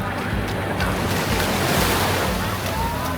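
Ocean waves breaking on Boracay beach, a steady loud wash of surf with wind buffeting the microphone.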